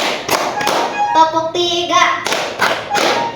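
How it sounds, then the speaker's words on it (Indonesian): Students in a classroom clap their hands during a counting game, sharp claps landing in an uneven rhythm under a voice calling out. "Tepuk satu, tepuk dua, tepuk tiga"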